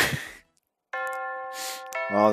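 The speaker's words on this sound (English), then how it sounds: "Oh, the chimes!" A school chime plays a sustained, clear bell-like tone sequence after a brief breath sound, ringing for about a second and pausing before the tones resume.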